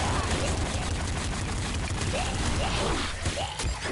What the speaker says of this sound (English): Shoot, just keep firing!